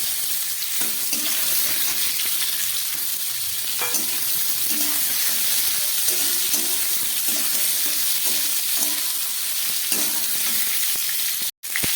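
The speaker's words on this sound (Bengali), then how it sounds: "হালকা ভাজা হয়ে গেছে এবার দিয়ে দিচ্ছি আমলকিটা" Amla (Indian gooseberry) frying in oil spiced with fennel seeds and dried red chilli for a pickle, giving a steady, loud, close sizzle with soft stirring clicks throughout and a brief cut near the end.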